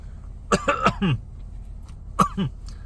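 Two bursts of coughing close to the mic: a rapid cluster of harsh coughs, a short pause, then another pair.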